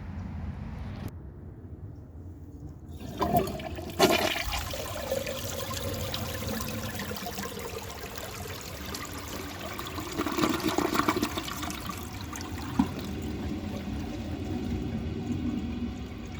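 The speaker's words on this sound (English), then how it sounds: "I will show you guys a flush" A 1974 Eljer Sanus low-tank toilet flushes with a loud rushing whoosh of water, then swirls and gurgles as it drains, followed by a long trickle while the tank refills.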